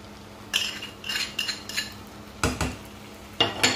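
A utensil stirs garlic, dried thyme, salt, pepper, chili powder and bell pepper paste in a pan for hunkar begendi. Repeated scraping strokes against the pan come in uneven bursts, close and clear, with no voices.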